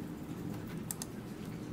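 Light, quiet taps on a computer keyboard as a command is entered in 3D modeling software, a handful of soft clicks with two crisper keystrokes near the middle.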